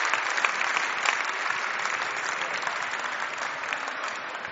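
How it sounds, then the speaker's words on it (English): Spectators at the 2007 Canary Wharf squash final between White and Willstrop break into sustained, loud applause after a long rally, a dense steady wash of clapping filling the hall throughout. "listen to the atmosphere, listen to the crowd. People are just loving it"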